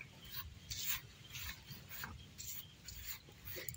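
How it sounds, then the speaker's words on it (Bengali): Crushed Parle-G biscuit powder and milk powder stirred together in a bowl, a soft scraping and rubbing rasp repeating in short strokes, close and quiet. "এবার আমি বিস্কুটের গুঁড়োর সাথে এই গুঁড়ো দুধটাকেও মিশিয়ে নেব।"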